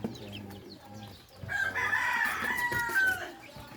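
Chickens around a farm coop for chicks cluck quietly at first, then a rooster lets out a loud, drawn-out crow close by, with soft background farm noise throughout.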